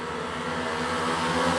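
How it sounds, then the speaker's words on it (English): Speedway motorcycle engines at a Championship meeting between Plymouth and Scunthorpe rise in a loud, sustained roar as riders rev at the tapes for the start of a heat, building steadily throughout with no talk. "So the engine noise comes up, green lights on"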